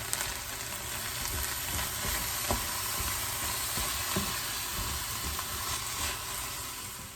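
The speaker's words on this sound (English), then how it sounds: "I'm just gonna go in with the meat, start breaking it up." Ground meat being broken up in a pan with sizzling peppers, onions and garlic for a pumpkin chili: a steady, dense frying hiss with occasional spatula scrapes and taps, close and continuous.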